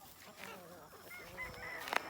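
Free-range chickens and a rooster on a two-acre homestead, soft overlapping clucks and short calls from a flock nearby, with a sharper squawk near the end.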